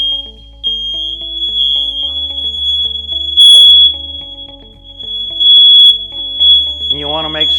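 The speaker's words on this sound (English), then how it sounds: "So we want to make sure all the fire alarms go off." A piercing, steady high-pitched smoke alarm beeps loudly and continuously during a new-home inspection test of all the house's alarms, with other alarm tones layered underneath and a brief voice near the end.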